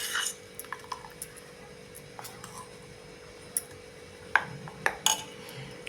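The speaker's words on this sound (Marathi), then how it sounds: "असं थोडं थोडं पीठ टाका आणि एकसारखं हलवत राहा, म्हणजे ह्यामध्ये गाठी न होता हे चांगलं मिक्स होतं." A spoon stirs gram flour dhokla batter in a bowl, making quiet scattered clinks and taps against the bowl that grow a little stronger near the end, over a faint background hum, with no voices.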